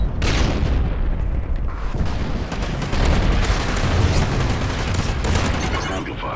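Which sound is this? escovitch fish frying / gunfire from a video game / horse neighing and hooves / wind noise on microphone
gunfire from a video game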